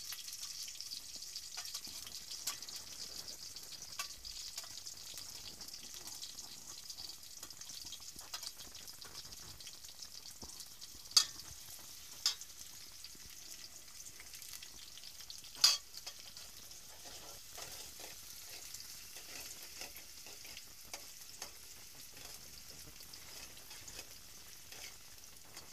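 Chopped onions with cut chilies frying quietly in a pan for kaddu sabji, a soft continuous sizzle with occasional faint clicks of a stirring spoon.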